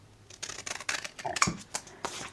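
Scissors trimming the edge of a junk journal paper page, a quick series of close, crisp snips and paper rustles over a couple of seconds with no talking.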